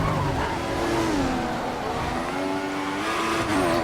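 An F1 car in the F1 2014 racing game at the Russian Grand Prix, with a stuck throttle, holds a loud continuous engine drone whose pitch wavers and climbs, sustained without a break and with no talk.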